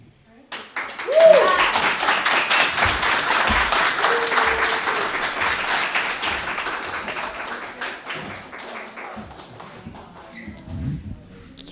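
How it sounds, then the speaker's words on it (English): Audience at an entrepreneurship accelerator's final presentations breaks into a loud round of clapping that swells quickly, holds steady, then thins toward the end, with a few voices and a brief whistle-like tone mixed in. "Can I get one more round of applause for all the entrepreneurs?"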